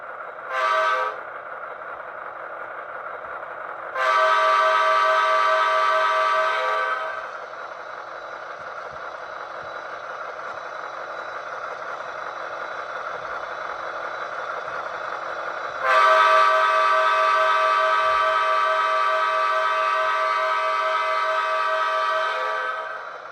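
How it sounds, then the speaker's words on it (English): Horn of a Broadway Limited Imports GE AC6000 model locomotive in Southern Pacific livery, a steady multi-tone electronic horn blast sounding in three separate long honks, close and loud against a low background hum. "Watch what happens when I blow the horn on the engine."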